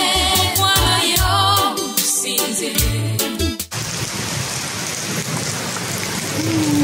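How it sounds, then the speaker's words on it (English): Heavy rain and a thunderstorm in Gulu, Uganda: after a few seconds of busy mixed sound, a dense, steady roar of rain takes over and holds at close range with no voices. "where it is raining and thundering and lightning and all that stuff"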